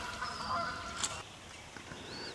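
Several geese honk and squawk close by as they are startled and fly off, a few brief calls over a little more than two seconds, with no talk.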